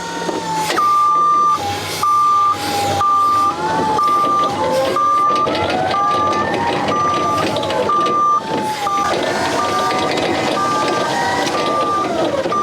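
Raymond electric forklift driving about a service floor, with a loud steady motor whine, repeated high electronic beeps and rattling machinery throughout, with voices in the background.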